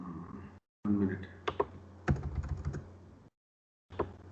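Typing on a computer keyboard: quick clusters of plastic key clicks, close and fairly quiet, broken by short gaps of silence, with faint talk in the background.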